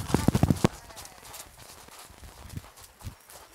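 Horse hooves clip-clop in a quick burst of close, sharp strikes, then fade into softer, scattered steps under background noise.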